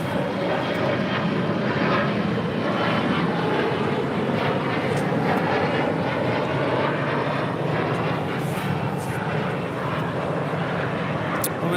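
A large airliner rolls for takeoff on runway 25 right at Los Angeles International Airport, a loud continuous engine roar with broadband rumble that holds steady close by throughout, while radio-style talk runs underneath.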